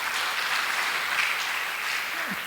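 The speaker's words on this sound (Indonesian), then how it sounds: "lagi tepuk tangan buat Tuhan Yesus dong" A church congregation claps in a dense, sustained wash of applause that fills the room evenly for the whole moment.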